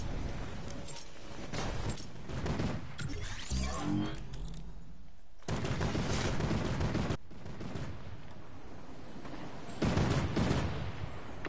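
Rapid bursts of gunfire from a shooter in a video game, including sniper shots, crack out in loud clusters one after another, with short lulls between the volleys.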